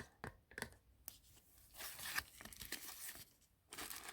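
A Coach Large Rowan handbag is unwrapped from its packaging, with close, quiet crinkling and tearing of wrapping material in short bursts and rustles.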